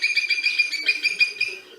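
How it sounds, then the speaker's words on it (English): A robot raven toy gives a run of rapid electronic bird chirps and squawks, steady and close, in quick repeated pulses with no talking. "You at least are sounding like a bird now"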